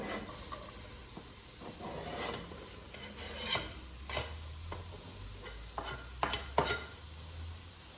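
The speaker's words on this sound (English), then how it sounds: "I'm just going to give it a quick saute, a very quick one" Chopped peppers, garlic and onion get a quick sauté in a soup pot, giving a soft steady sizzle broken by scattered scraping stirs and a few louder utensil knocks.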